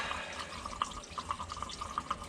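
Coolant from a Powerstroke bus drains into a catch pan, a close, steady trickle and splash with small drip-like spikes running throughout, no talking.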